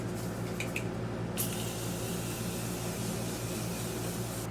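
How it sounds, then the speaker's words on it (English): Morphe Continuous Setting Mist sprayed onto a face: a steady, close hiss of fine mist lasting the whole moment, with a couple of brief sharper bursts near the start. "I'm going to go in with my Morphe Continuous Setting Mist."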